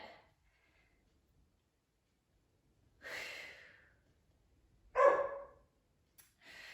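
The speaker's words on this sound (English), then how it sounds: "You can hear my dog barking a little bit." A dog gives a few short barks and snorts at a distance, with quiet gaps between them and no talking.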